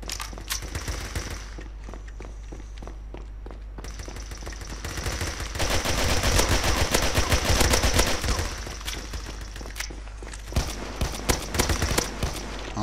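Rapid gunfire from a weapon in the video game Kuboom rattles out in loud, sustained automatic bursts, with dense repeated shots that swell in the middle before easing into more spaced volleys.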